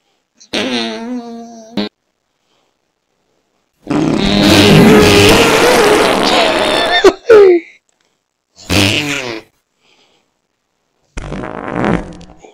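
Fart sound effects from a novelty fart button, several separate blasts of varying length and tone with gaps of silence between them, loud and close.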